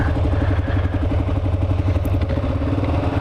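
A 2008 Kawasaki KLR 650 motorcycle with a cleaned carburetor and fuel tank runs loud and close, its single-cylinder engine thumping in a steady, even rhythm while riding.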